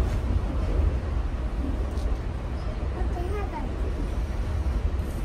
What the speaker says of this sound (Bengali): আমরা এখন গো ট্রেনে করে স্কারবো স্টেশনে যাব